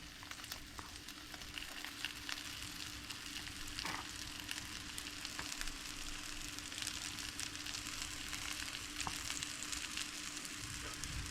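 Sausage and onion fry steadily in a hot pan, a dense continuous sizzle and crackle with faint stirring scrapes, close and alone for the whole stretch.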